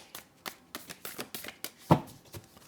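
A deck of tarot cards being shuffled by hand at close range, with quick rhythmic papery slaps and riffles repeating about twice a second and one louder thump near the end.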